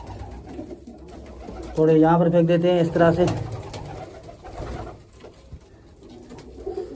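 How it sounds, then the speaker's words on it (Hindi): Domestic pigeons in a loft, one chasing the others around, give a close, loud burst of throaty cooing lasting over a second, with someone talking before and after. "कबूतर मेल और फीमेल को इस तरह भगा रहा है"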